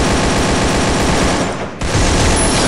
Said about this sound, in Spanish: Y hay disparos acá abajo, ¿no?